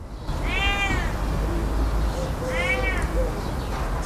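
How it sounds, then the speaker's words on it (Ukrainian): A cat stuck high in a poplar tree meows twice, two clear drawn-out calls spaced about two seconds apart, over steady outdoor background noise. "звернули увагу на тварину, коли вона стала нявчати"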